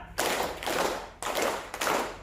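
Counted clapping game in a classroom or teacher workshop: four bright bursts of hand claps in a steady rhythm, near and clear, with no talking.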